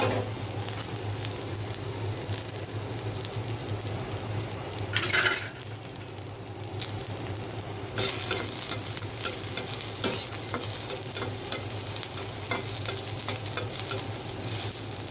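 Plenty of onion fries in hot oil, a dense steady sizzle close by with scattered clinks and scrapes of stirring, and a brief louder burst partway through.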